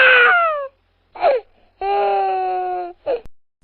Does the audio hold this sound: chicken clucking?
no